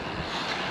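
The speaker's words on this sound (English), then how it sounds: "it is actually quite windy along here" Steady broadband wind noise buffets the microphone on a windy cycle ride through Winwick, a continuous loud rush with no gaps and no one talking.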